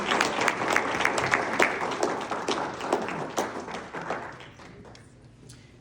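Audience applause at a celebration event, brisk clapping from a crowd that fades out gradually toward the end, individual claps standing out at times.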